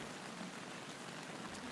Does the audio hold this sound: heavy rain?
yes